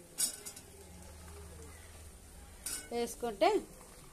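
Cluster beans being stirred and fried in a pan, with a few close metallic scrapes and clinks of a utensil against the pan over a faint background hum, the strokes clustering toward the end.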